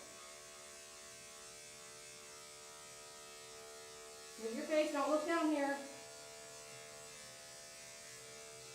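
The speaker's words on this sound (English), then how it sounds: "Not while I've got a shaver going on." An electric shaver buzzes close by for a short burst while a doodle puppy is groomed, starting and stopping within about a second and a half, with a person talking quietly before and around it.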